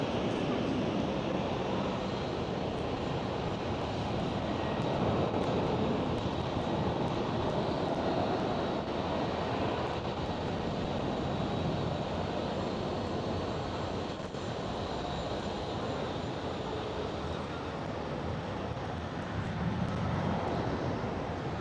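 A Delta Airlines Airbus A330 takes off with a steady, broad engine roar that holds at a constant level throughout, heard outdoors at an airport without talk.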